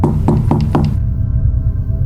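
Four quick, evenly spaced knocks on a house's front door sound close and firm against a steady background hum, with no voices.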